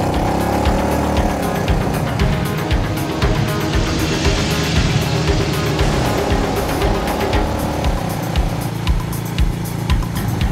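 Engine of a Bajaj Avenger cruiser motorcycle while riding, a steady, loud, close-up drone with constant rumble and wind buffeting throughout, no talking.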